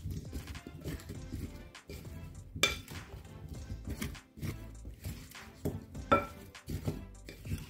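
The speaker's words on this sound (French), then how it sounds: "Je mélange très très très bien. Que toutes les patates soient bien imprégnées de la marinade." Seasoned potatoes being tossed with marinade in a bowl: irregular clattering of a utensil against the bowl with wet knocks and a couple of sharp clinks, close up, with no talk.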